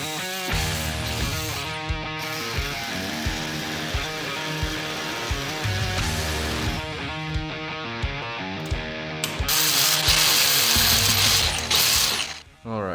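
A mount being cut off an aluminum motorcycle frame, a 2005 CRF4 being fitted with a 1987 CR500 engine, gives a steady close mechanical grinding and rasping that runs the whole time and gets louder and harsher near the end.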